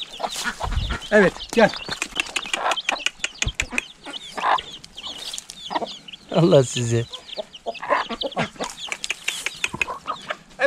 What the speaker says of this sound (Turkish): Evet bunlar da çıkan civcivlerimiz. Bir yemleyelim bunları.